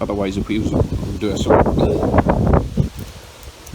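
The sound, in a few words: wind outdoors on a windy day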